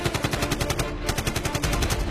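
Rapid, loud automatic gunfire rattles steadily in a dense burst of repeated shots, aimed at an ambulance, with no talk.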